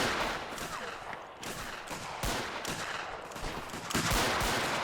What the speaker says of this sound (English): Yeah, there's some shotguns going in there.